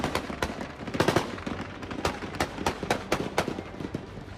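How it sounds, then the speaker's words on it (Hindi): Taliban fighters fire machine guns on the streets of Kabul: rapid, sharp bursts of gunfire crack out in quick clusters and single shots, loud and close, with no talking over them. "हथियारों से लैस तालिबान की खूंखार ब्रिगेड ताबड़तोड़ गोलियां दाग रही है।"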